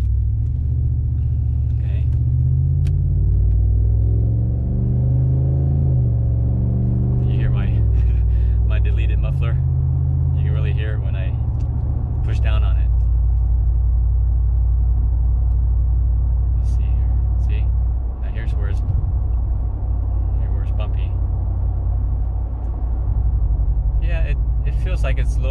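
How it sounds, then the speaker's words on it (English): A 2019 Ram 1500 pickup truck with a Hellwig sway bar drives over a new, bumpy road, giving a steady low cabin rumble with occasional thumps from the bumps while someone talks throughout. "It's a new road, but it tends to bump the truck around."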